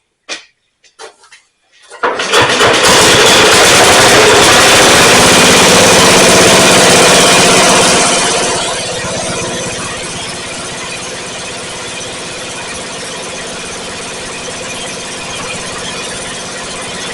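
A 1965 Bolens Husky 1000 garden tractor engine with a pepper-can muffler cranks with a few short bursts, then fires and runs loud and close, settling into a steady, quieter idle.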